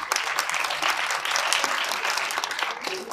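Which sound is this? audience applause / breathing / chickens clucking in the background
audience applause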